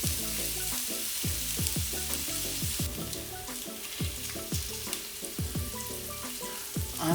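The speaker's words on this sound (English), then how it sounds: "once the pot is hot enough, I'm going to add a bit of oil. And we're going to add our onions" Onions frying in hot oil in a pot give a steady, close sizzle with crackling and occasional stirring scrapes, with no talk.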